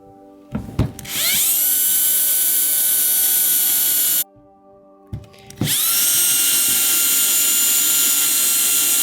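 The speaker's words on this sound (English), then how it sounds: "And now I know where to drill my holes." A power drill bores holes in a wooden frame shelf: two sustained high whining runs, each spinning up quickly after a brief start, separated by a short pause, loud and close.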